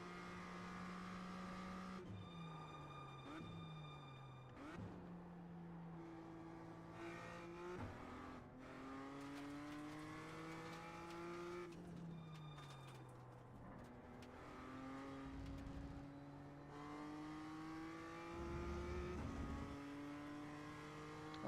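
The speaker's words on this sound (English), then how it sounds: "And this car just sounds so good." A race car engine in a sim racing game revs and climbs through the gears, its tone rising and then dropping at each shift across repeated acceleration runs, loud and continuous with no talk.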